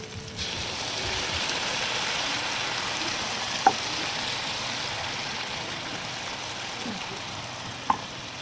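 Tinapa smoked fish frying with sautéed tomatoes in a pan gives a steady, even sizzle that runs throughout, broken by two sharp clicks of a utensil against the pan.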